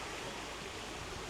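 Waterfalls flow in a park near a lake in Dalat, Vietnam, producing a steady, dense rush of falling water that stays even and unbroken throughout, with no voices.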